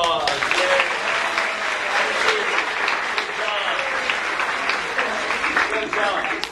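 Audience applause in a theater class after a melodrama scene, a sustained burst of many hands clapping, fairly loud and steady with a few voices underneath.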